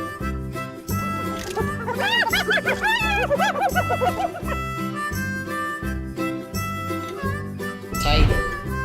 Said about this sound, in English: Hyena.